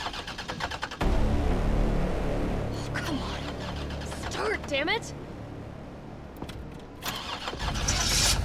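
A car engine cranks and catches in the video game Resident Evil 3, then settles into a rumbling idle, with mechanical clunks and a few sharp tonal game effects over it.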